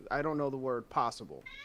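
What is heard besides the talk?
cat meowing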